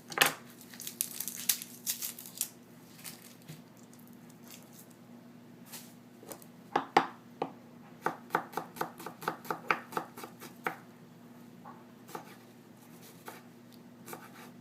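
Garlic cloves and other ingredients are chopped with a knife on a cutting board. The dry knocks come in irregular bursts and runs of quick taps, close and fairly quiet, with no talking.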